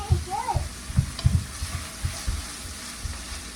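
Bell peppers and onions frying in a pot for homemade chili, a low steady sizzle with soft rhythmic stirring thumps, heard up close.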